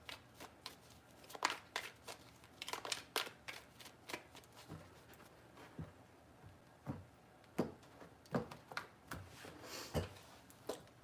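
Tarot cards being shuffled by hand, a quiet series of crisp riffling bursts in irregular clusters with short pauses between them and no voice.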